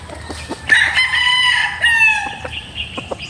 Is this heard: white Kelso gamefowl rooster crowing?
yes